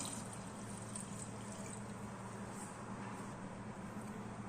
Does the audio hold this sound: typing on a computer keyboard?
no